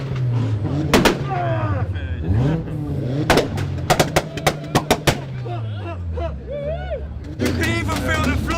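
At a large car meet in Bristol, exhaust pops crack out in sharp, loud bursts like gunshots, several in quick succession, over engine revving, with people talking throughout.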